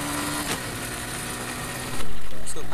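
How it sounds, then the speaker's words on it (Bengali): A 125 cc motorcycle engine runs with a steady mid-pitched drone, swelling louder near the end as it revs, while someone speaks over it. "125 সিসির বাইক নিয়ে কি রেস লাগাবো 107-এর সাথে।"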